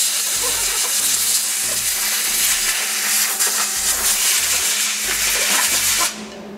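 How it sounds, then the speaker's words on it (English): Compressed air blows off freshly CNC-machined metal washers at close range, a loud, steady hissing rush broken by short low knocks of parts being handled, before it cuts off abruptly at the end. "I'm going to take these and blow them off."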